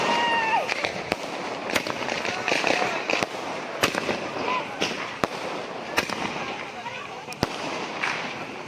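A 12-shot firework cake bursts during Diwali celebrations, its loud sharp cracks spaced roughly evenly over crackling and hiss, with people talking throughout.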